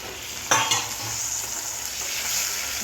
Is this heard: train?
no